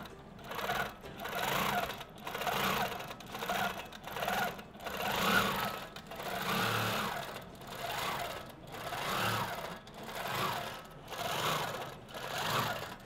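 A longarm quilting machine driven by a Pro-Stitcher robotic system stitches a row across a quilt, its needle motor humming steadily with rhythmic pulsing rises and falls, loud and close, with no talking.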